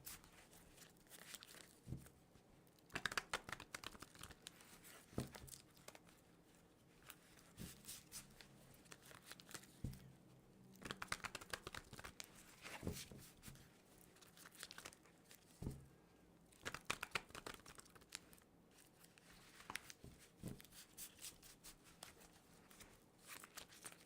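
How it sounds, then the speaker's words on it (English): A tarot card deck shuffled several times, giving quiet bursts of riffling, slapping and crinkling card sounds in irregular clusters with pauses between, close and faint, without talking. "I'm gonna stick with this deck and shuffle several times."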